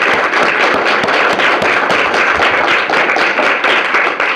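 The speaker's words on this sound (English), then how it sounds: "a round of applause for our two presenters" Audience at a book talk applauds two presenters, a loud, close, continuous burst of many clapping hands that holds evenly for several seconds.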